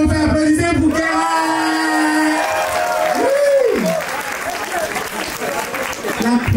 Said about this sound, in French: applaudissez pour Kéran